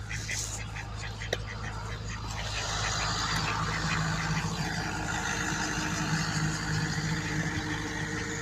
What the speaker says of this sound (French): il y a mon voisin qui passe avec le tracteur